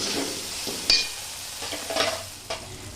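Mutton curry masala is stir-fried with a splash of water, giving a soft continuous frying hiss broken by several scraping stirs of a spoon in the pan, close-up and without talk.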